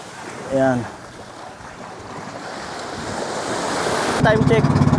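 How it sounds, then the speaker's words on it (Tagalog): Strong ocean waves at Hundred Islands, a continuous wash of surf and wind buffeting the microphone that grows louder toward the end, with a brief boat-engine or horn-like tone and a short voice near the start. "Medyo malakas na po yung alon."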